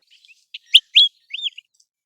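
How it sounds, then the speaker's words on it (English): An American Golden Plover gives a few short, clear whistled call notes, loud and close, with silence between them. "These calls of the American Golden Plover not only help in communicating but also add a musical quality to their natural habitats"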